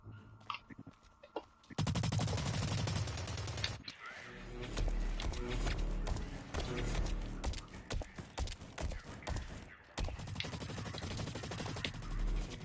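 Rapid gunfire from a survival video game, loud dense bursts of shots running almost continuously after a quieter opening, with a couple of short pauses between volleys.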